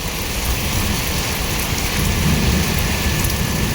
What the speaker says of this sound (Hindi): बारिश थोड़ी लेट आई।